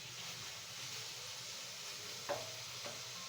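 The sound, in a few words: chicken frying and stirring in a pan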